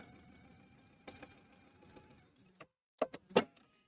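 A sewing machine stitches fabric down along a marked center line, a faint mechanical whir with a few sharper clicks and clunks toward the end, quiet and close.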